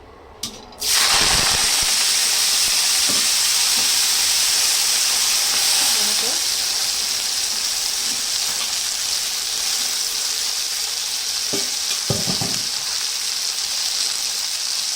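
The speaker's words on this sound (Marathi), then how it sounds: "तर इथे तेल गरम झालेलं आहे। तर आता आपल्याला ह्याच्यामध्ये भाजी घालायची आहे।" Fenugreek leaves hit hot oil with a sudden loud sizzle that settles into a steady, close, hissing fry, with faint clinks now and then.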